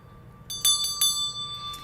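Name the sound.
bell being rung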